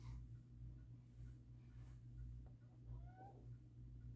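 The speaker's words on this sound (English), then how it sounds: "I hear my kitty." A pet cat gives a few soft meows close by in a quiet room, with faint rustling and a low steady hum underneath.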